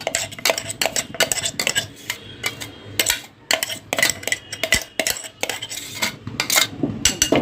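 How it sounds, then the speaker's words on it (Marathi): A spoon scrapes and taps repeatedly against a steel mixer jar while black pepper chutney is emptied onto a plate, sharp close clinks and scrapes in an irregular rhythm, with no talking. "हिला ना आपण एका प्लेटमध्ये काढून घेऊया"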